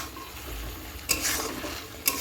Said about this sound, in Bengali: এবার ডিম কটা দিয়ে কষিয়ে তারপরে জল দিয়ে দেবো।